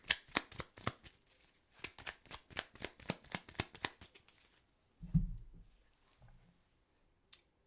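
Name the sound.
shuffling tarot cards to pull a card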